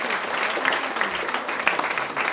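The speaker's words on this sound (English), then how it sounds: "Can we give a big round of applause for Ashra Fatima once again?" A room full of people applauds, a dense, steady clatter of many hands clapping at moderate loudness for the whole stretch.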